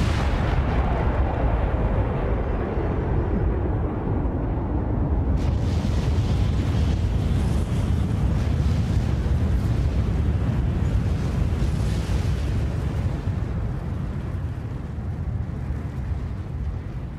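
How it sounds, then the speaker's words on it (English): A Big Bang explosion effect: a huge, sustained roaring rumble that swells and rolls on for many seconds without pause, loud and dense, with a deep descending sweep early on and a brighter surge partway through. "This is the moment it all started,"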